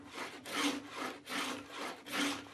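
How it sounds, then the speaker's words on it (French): A hand-worked scroll saw cuts through wood for handmade skis, giving a rhythmic rasping of five or so back-and-forth strokes, close and fairly quiet. "à la scie à chantourner"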